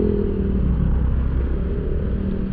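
A motorcycle engine idles close by, a steady low rumble with a faint rhythmic clatter holding at an even level, with no speech over it.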